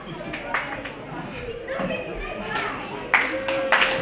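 Live wrestling show crowd in a small hall, with scattered hand claps and a few sharp bursts of clapping near the end over constant murmuring chatter and a commentator's voice.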